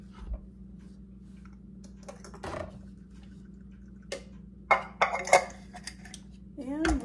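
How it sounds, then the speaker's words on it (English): Homemade Bisquick mix being mixed in a bowl, with irregular clinks and scrapes of a utensil against the bowl, sparse at first and then busier, over a low steady hum. "mix it till it's nice and fine."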